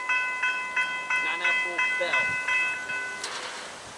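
A freight train rolls slowly past near a rail yard at night, its wheels clacking at a regular rhythm, with crossing gate bells ringing steadily above, a short horn-like tone and faint voices in the background.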